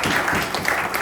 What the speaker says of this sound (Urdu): اچھا یہ جو تالی ہے نا ولی صاحب, یہ ایسے جان چھڑانے والی ہے.